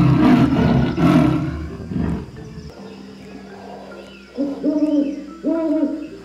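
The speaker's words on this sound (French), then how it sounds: "Coucou le hibou." Owl hooting from an electronic puzzle toy: loud roaring and rumbling sounds at first, then a series of short, clear electronic hoots repeated in a steady pattern near the end.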